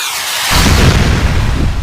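A firing squad sound effect, a sudden loud gunfire burst that hits after half a second of quiet and fades into a noisy rumbling tail.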